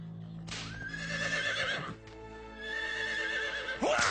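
A horse neighs loudly and close, a long shaky whinny with a brief break in the middle and a rising squeal at the end, set against a low steady hum.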